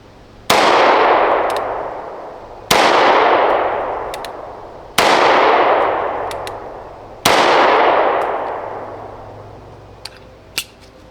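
Four loud pistol shots ring out in two closely spaced pairs during a 5 and 50 shooting drill, each with a long echoing decay, followed by a couple of faint clicks.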